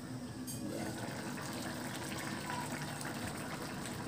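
A lentil and bottle gourd curry simmers under a lid, giving a continuous soft bubbling, gurgling noise that stays fairly quiet and even for several seconds.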